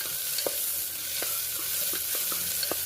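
Sliced onion and green chillies sauté in hot oil for a biryani, a steady soft sizzle with a few faint scattered clicks of stirring, no voices.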